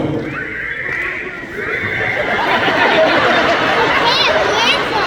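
A concert crowd in Lakeland, Florida tries to whistle a song's whistle part together, producing a loud, ragged wash of many overlapping whistles and voices over continuous crowd noise.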